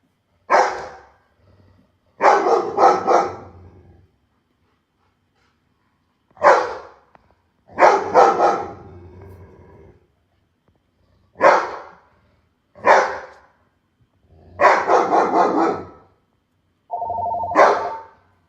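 A dog barks in about nine separate bursts, each a single bark or a quick double or triple volley, loud and close, with silent gaps between them and no talk.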